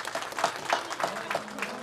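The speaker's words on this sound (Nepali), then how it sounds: "सबैले ताली बजाउँ।" An audience claps at a ceremony marking the start of a large Hindu fire ritual in Nepal. The applause is steady and moderately loud, with a faint voice underneath.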